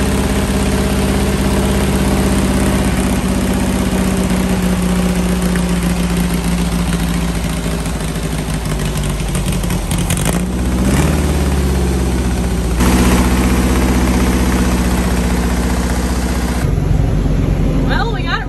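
A Volkswagen Baja Beetle engine runs at a loud, steady idle throughout, with a few shifts in tone as it keeps going.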